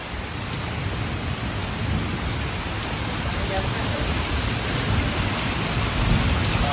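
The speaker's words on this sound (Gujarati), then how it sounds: "આઈ ગયો ભાઈ વરસાદ." Steady rain pours down in a continuous broadband hiss, loud and close, holding level throughout with no clear individual thunder claps standing out.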